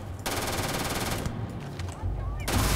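Rapid automatic gunfire in Starfield, loud and sustained bursts during a zero-gravity fight aboard an abandoned luxury liner, with brief gaps between volleys.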